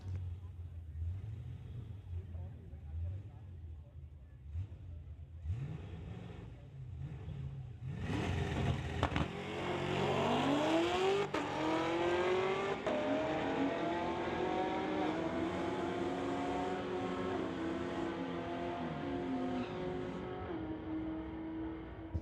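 A 1971 Pontiac and a 2020 Chevy ZL1 drag race on a street-legal strip: after a low idling burble, both cars launch with a loud roar, rising through the gears and staying loud to the end, with announcer talk underneath.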